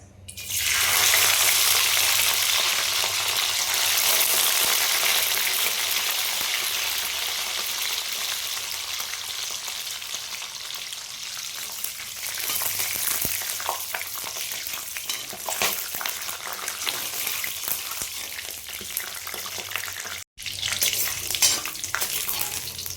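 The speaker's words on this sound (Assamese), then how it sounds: "মই কেইটামান বাদাম ভাজি লওঁ।" Loud, steady sizzling of peanuts frying in a pan, a dense hiss that eases slightly over time, with a brief stir near the end; no talking.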